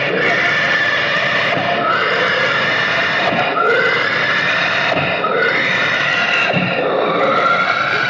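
A pig squealing loudly while being slaughtered, harsh drawn-out cries repeating in waves over several seconds, close and intense, with possible voices mixed underneath.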